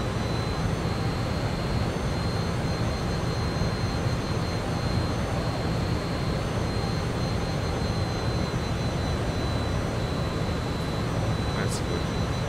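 Twin turbojet engines of an F28 airliner in Microsoft Flight Simulator, a steady, dense roar with a faint high whine that holds throughout, with no clear rise.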